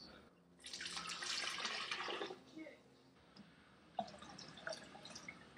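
Water pours into a container to make lemonade, a loud splashing stream for about two seconds. Quieter trickles, drips and small clinks follow in a quiet room.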